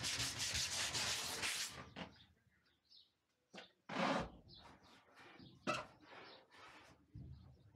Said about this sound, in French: on vient de poncer toutes les surfaces sur lesquelles on veut appliquer de la colle pour mettre les tasseaux